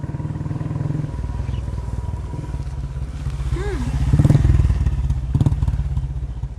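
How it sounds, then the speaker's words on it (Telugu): An old, battered motorcycle pulls up in a film scene, its low engine throbbing steadily and growing louder midway. Faint voices may be mixed in. "ఈ లగ్జరీ కార్ని కాదని డొక్కు బైక్ కోసం వెయిట్ చేస్తున్నావు"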